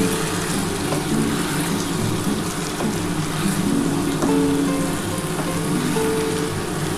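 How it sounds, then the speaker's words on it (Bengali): Spiced water meets frying masala in a hot pan, producing a steady, dense sizzle like rain on a surface, with faint clinks throughout, close and continuous. "এই যে মশলার যে জলটা আছে, আমি জলটা দিয়ে দিচ্ছি"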